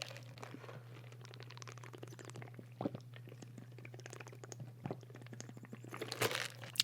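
Close-up gulps of coffee taken in an ASMR style, a series of wet swallowing and throat sounds at an uneven pace over a low steady hum, with a louder gulp near the end.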